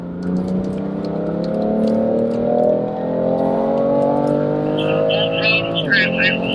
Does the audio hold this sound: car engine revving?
yes